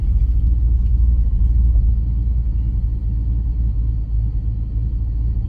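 A 1978 Pontiac Trans Am WS6 with a 400 engine and four-speed runs just after starting, a loud, close, steady low rumble that holds strong throughout, with no one talking.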